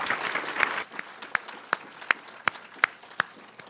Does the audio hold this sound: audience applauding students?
yes